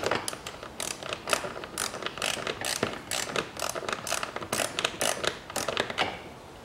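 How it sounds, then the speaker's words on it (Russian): A ratchet wrench with a 10 mm socket loosens an M6 nut on a 2.2 Range Rover Evoque, giving rapid bursts of close, crisp clicking in an irregular rhythm, pausing briefly between strokes. "Сзади вот здесь откручиваем гайку"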